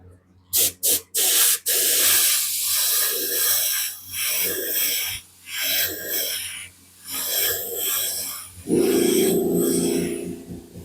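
Spray gun laying down candy red over ghost flames: a few short bursts, then steady close hissing passes that swell and fade, ending with a louder, lower rush.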